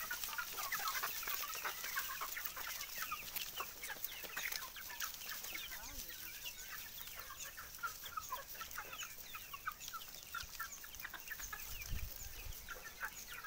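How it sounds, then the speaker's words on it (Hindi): Free-range desi chickens about 70 to 75 days old cluck and chatter continuously on a poultry farm, a busy flock of soft overlapping calls at moderate distance with no talk over them. "ये मुर्गियाँ लगभग सब 70-75 दिन की हो गई हैं सब"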